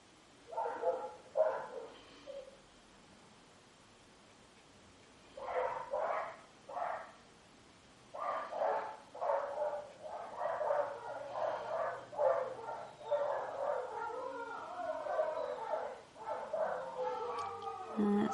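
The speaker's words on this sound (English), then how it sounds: "someone decided that they should go outside and set the dogs off" Several dogs bark and yip outdoors at a moderate distance, coming in repeated bursts with short pauses, then a longer busy stretch of overlapping barks and whimpers.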